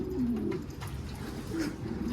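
Soft pigeon cooing repeats through the clip, low throaty coos rising and falling against a steady background hum, fairly close.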